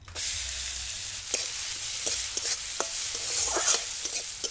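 Chopped onion frying in a spoonful of butter for white sauce pasta, a bright steady sizzle close by, with occasional stirring clicks and scrapes breaking through.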